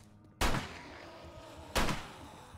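Gunfire in the 7 Days to Die video game, two sharp loud shots about a second and a half apart, each with a short echoing tail over a quiet background.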